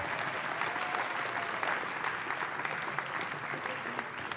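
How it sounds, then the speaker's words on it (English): A crowd claps for an honoree at the 2023 Mānoa Awards Ceremony, with dense, even applause held throughout at a strong, steady level. "Big round of applause for Wendy."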